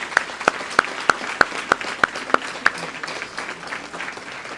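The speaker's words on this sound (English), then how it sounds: "I think that deserves a round of applause." Applause at an inaugural city council meeting in Niagara Falls, a few distinct, evenly spaced claps standing out over a soft wash of lighter clapping that fades toward the end.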